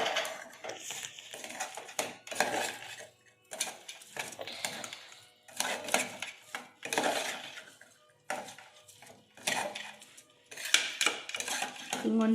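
A metal spoon scrapes and clatters against a pan while pulao ingredients are stirred into masala, in repeated bursts of clinking with short pauses between, close and fairly quiet.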